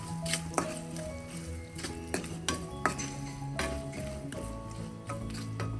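A spoon scrapes and clinks against a pan while stirring softened tomato masala with salt, giving repeated metallic taps and wet squishing strokes at an uneven rhythm, close up over a faint sizzle.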